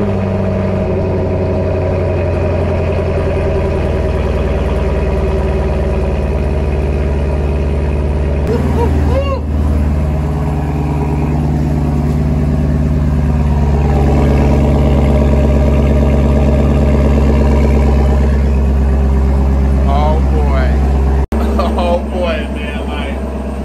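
A 2019-2023 Chevrolet Camaro SS with the LT1 V8, cold started in neutral, holds a loud, deep, steady idle close by, with a brief rise partway through and a voice talking over it.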